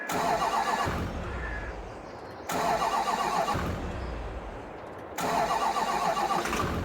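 An old abandoned work truck with a fresh battery cranks in three long, loud attempts separated by short pauses, the starter churning steadily each time without the engine catching.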